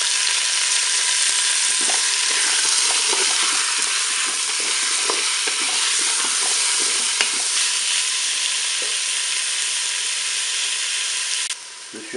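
Onions sautéing in a Cookeo multicooker, a steady close hiss of frying with scattered crackles and soft stirring scrapes, continuing without talk.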